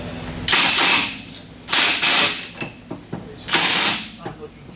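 An impact wrench drives a heavy impact socket on a nut to crush a crush sleeve, firing in three loud hammering bursts separated by short pauses, close up with a few faint clicks between.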